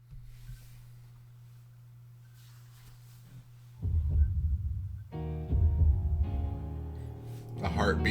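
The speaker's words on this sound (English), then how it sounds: "A heartbeat for the beginning of this singer competition." Low, pulsing heartbeat throb opening a singing competition performance, soft and steady at first before fuller music with voices swells in over it.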